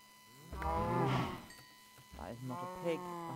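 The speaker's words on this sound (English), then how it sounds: "Not a pig, that was a cow." A video game cow lets out a long harmonic moo, then a second shorter moo follows after a brief gap, clear and fairly close.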